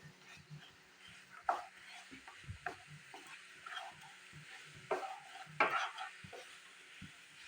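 Jaggery syrup for til laddu boils and bubbles softly in a pan while a spoon stirs and scrapes against the metal in sporadic, sharper knocks, close but fairly quiet, with no talking.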